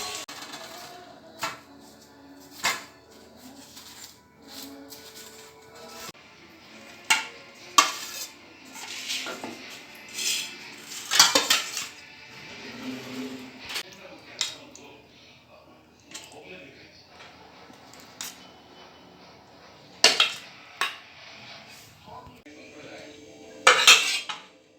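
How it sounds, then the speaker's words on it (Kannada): Metal pots, pans and utensils clatter and scrape in a home kitchen while kadubu dumplings are fried, irregular close knocks and clinks over faint sizzling, with people talking in the background. "ಇಲ್ಲಿ ಸ್ವಲ್ಪ ಹುರಿಯಾಕ್ತಾರೆ"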